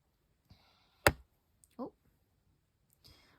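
A sharp metallic click stands out amid quiet sounds, followed by a softer snip and faint rustling as scissors cut through crochet yarn close by.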